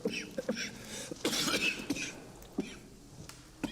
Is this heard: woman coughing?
yes